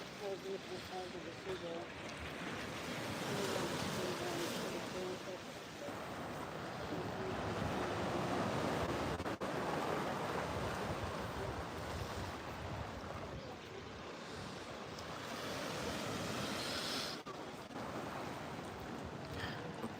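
Sea waves washing on the shore at Nerja, a continuous broad rushing surge mixed with wind buffeting the microphone, steady and moderately loud throughout.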